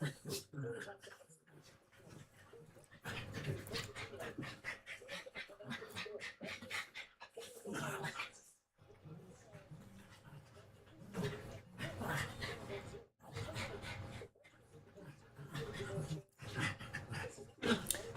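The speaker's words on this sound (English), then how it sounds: "They're wrestling down there on the floor, the two dogs." Two dogs wrestle on the floor, panting hard in quick bursts with scuffling and an occasional whimper, close by, while someone talks over them at times.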